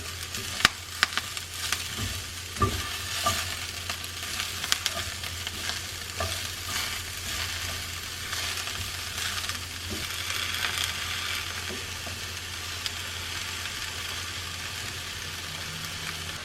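Kale and mixed vegetables stir-frying in olive oil for a spicy Szechuan stir fry: a continuous soft sizzle with scattered stirring knocks and scrapes throughout, fairly close and unvoiced.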